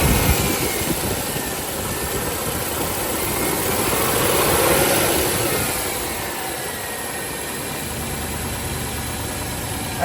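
A 1995 Range Rover Classic engine with a starting problem, running at a steady idle and rising gently as gas is given before settling back, close and alone with no talk.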